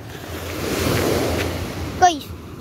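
Loud ocean waves breaking at a beach in Bolinao, a broad rushing surf swell building and fading with wind noise, then a brief voice near the end.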